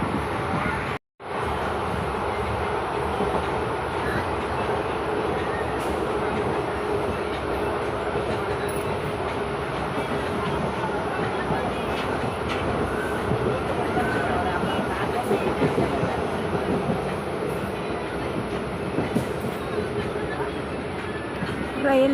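Passenger train rolling past Chinnasalem railway station, a steady close rumble of wheels on track with faint rhythmic clatter and occasional squeals, continuous throughout with no pause.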